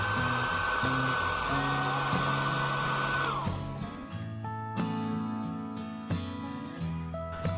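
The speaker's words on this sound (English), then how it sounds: "Turn over the display and heat the surface on the area of front camera." Heat gun blowing hot air over an iPhone 8 Plus display near the front camera, a steady whirring blower with a high whine that drops away midway, leaving the fan humming alongside faint background tones.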